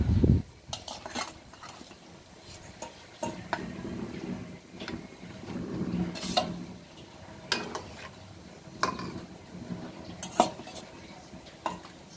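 A pot of mustard gravy with fried fish is stirred, with repeated scraping and clinking of a utensil against the pot and a low bubbling simmer underneath.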